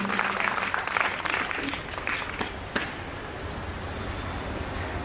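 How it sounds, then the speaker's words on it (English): Steady applause from an audience, dense clapping that gradually thins toward the end. "Please give a big round of applause"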